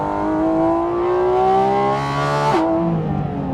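A Porsche GT4 RS engine on a race track rises steadily in pitch under hard acceleration, loud and close, then drops sharply at an upshift before climbing again.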